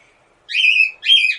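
Two bright, whistled bird calls follow a short quiet start, each lasting about half a second with a brief gap between them. They are clear and fairly close, and no one speaks.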